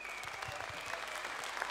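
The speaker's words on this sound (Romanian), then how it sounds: "Vreau să o invităm cu aplauze pe Marina" Faint, steady applause from an audience welcoming a folk singer, an even patter of clapping heard from a distance with a faint tone running beneath it.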